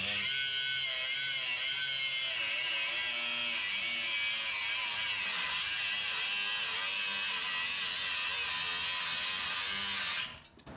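A saw blade grinds through a bolt during work on a 2001 Jeep XJ with a 4.0 engine, a loud continuous high whine running for about ten seconds before cutting out.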